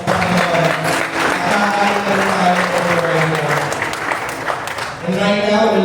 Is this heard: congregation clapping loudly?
yes